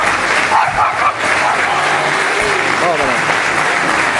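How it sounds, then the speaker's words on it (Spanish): Applause from a crowd welcoming an 18-year-old at his birthday party, steady and loud throughout, with a dog yipping and barking along with it. "Señoras y señores, lo recibimos con este fuerte aplauso."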